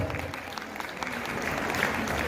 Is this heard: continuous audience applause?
yes